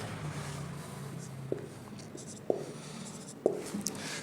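Chalk or marker writes algebra on a classroom board, with a quiet scratchy stroke and three distinct tapping clicks spaced about a second apart against low room noise.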